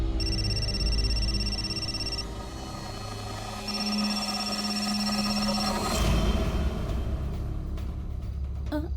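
Phone ringing on a call to Karan: two long electronic ring tones separated by a pause, heard over a steady low rumble, with no voices.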